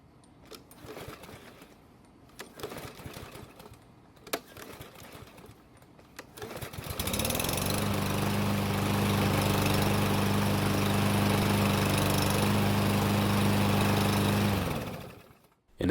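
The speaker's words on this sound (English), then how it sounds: "it took the 5th pull to get the engine started" Lawn mower engine pull-started by hand: several rattling cord pulls and sputters over the first seconds, then the engine catches and runs with a steady loud drone before cutting out abruptly near the end.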